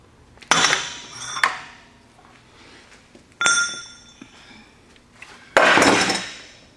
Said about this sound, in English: So now we'll try whacking it again.